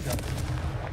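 Confringo, an explosive fire spell in the game Hogwarts Legacy, goes off as a short, loud burst with a booming low body and crackling blasts, dense and close for under a second.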